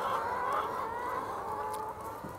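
A crowd of hens clucks and calls continuously at close range as they rush forward to a feed trough when the feed line starts up, a steady dense chatter of fowl with no talking.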